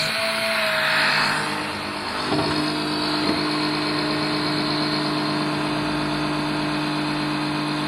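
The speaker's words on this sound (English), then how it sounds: "It sucks oil, so it's very strong, but it's great for fuel as well." A cheap Lidl electric extractor pump draws fuel out of a barn-find Honda Deauville 650 with a steady, close mechanical drone and whine. A faint clank breaks the hum partway through, and no one speaks.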